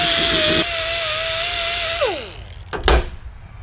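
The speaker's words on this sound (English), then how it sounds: "So we got just a die grinder, red Scotch-Brite, get our safety squints on." A die grinder fitted with a red Scotch-Brite pad whines steadily as it cleans a Keihin PWK carburetor, then spins down with a falling pitch and is followed by a couple of sharp handling clunks.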